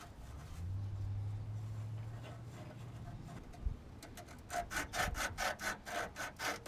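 Green abrasive scrub pad rubbed back and forth over rusty metal parts of a 1993 Dodge Dakota, treated with PB Blaster; a low hum at first, then a run of rhythmic, close scraping strokes near the end.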